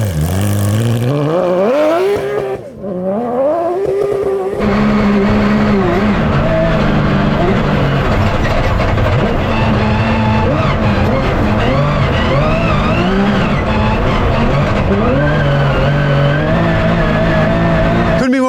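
A GT3 Cup race car runs a flat-out hot lap on a dirt rally course, its engine screaming loud and close, rising through gears with a brief lift before sustained high-revving howl.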